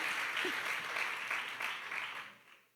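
A church congregation gives a brief round of applause during a sermon, a soft steady clapping that fades out at the end, with faint voices mixed in.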